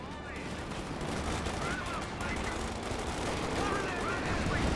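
Dense gunfire in a Company of Heroes 2 battle, a continuous crackle of rifle and machine-gun shots layered over a loud, steady wash of battle noise.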